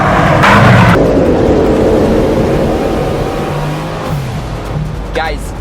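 A Bugatti Chiron Sport's engine roars loudly through a downshift, a sharp rev burst up front that then settles into a steady, deep drone inside the car, with a voice talking over it and a brief whine near the end.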